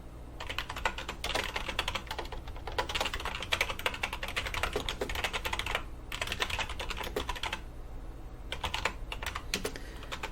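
Rapid clattering keystrokes on a computer keyboard, close and continuous, come in bursts separated by short pauses while a message is typed during Java programming work.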